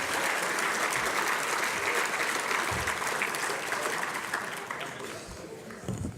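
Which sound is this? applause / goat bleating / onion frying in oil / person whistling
applause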